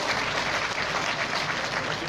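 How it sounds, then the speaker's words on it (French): Audience at the 6th extraordinary congress of the PDCI-RDA party in Côte d'Ivoire gives steady, dense applause, a continuous wash of clapping from a large crowd throughout the short stretch. "Veuillez l'applaudir très fort."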